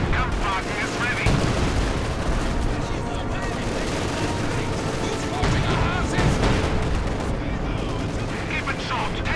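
Mortar explosions and gunfire in the video game Company of Heroes 2, a dense continuous barrage of booms and rattling shots with game voice lines mixed in.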